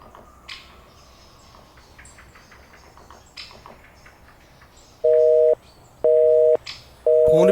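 After some faint background noise, a telephone busy signal sounds three times, loud, evenly spaced beeps about a second apart.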